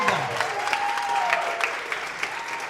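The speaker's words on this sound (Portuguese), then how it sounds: "Aplauda Jesus" A church congregation claps steadily, a dense patter of applause with a voice or tone gliding faintly underneath.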